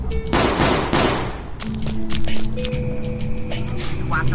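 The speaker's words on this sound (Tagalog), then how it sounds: "narinig na nila ang putok ng baril" Loud gunfire from a staged action film fires off in two or three sharp, booming bursts at the start. Humming tones and scattered clatter follow, with a soundtrack-like drone in the background.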